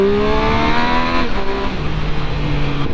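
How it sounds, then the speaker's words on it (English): A Triumph Speed Triple motorcycle engine and exhaust sing loudly while riding, rising in pitch under acceleration, then dropping through a gear change into a steady, throaty drone. "This is probably the best sounding stock bike you can get."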